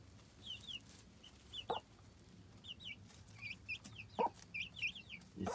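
Chickens clucking while pecking at food, several short bright clucks and chirps in quick scattered bursts, fairly faint and close, with a few sharper pecking knocks underneath and no talking.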